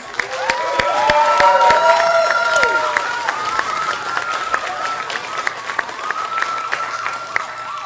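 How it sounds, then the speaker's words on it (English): An audience at a pageant in Placerville, California applauds and cheers, a loud swell of clapping and voices that peaks early and then settles into scattered claps. "Let's give these outstanding ladies a round of applause."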